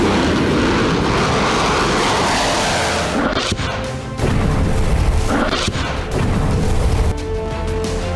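A fighter jet roars overhead amid heavy bomb explosions in a dramatized news report effect, a dense continuous rumble broken by deep booms and crashing impacts throughout.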